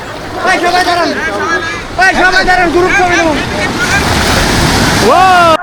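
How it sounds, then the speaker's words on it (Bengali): Surf rolls and washes steadily in the background at Cox's Bazar beach, Bangladesh, while people shout and chatter nearby, voices rising over the wind-blown roar of the waves. "বন্ধুরা আমরা সমুদ্র সৈকতে কিন্তু চলে এসেছি।"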